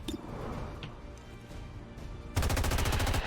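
Rapid automatic gunfire from a soldier's rifle in the XCOM 2 video game, a loud sustained burst of evenly spaced shots near the end, preceded by quieter ambient game sound.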